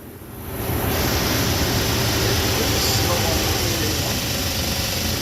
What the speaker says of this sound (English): It never cranked that fast since day one.